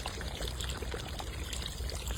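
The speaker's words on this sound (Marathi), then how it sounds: "चिकन शिजण्यासाठी आपण इथं पाणी घालून घेऊ।" Water is poured into a pan of spiced chicken curry, a steady faint splashing trickle of Chicken Afghani cooking with turmeric and chicken masala.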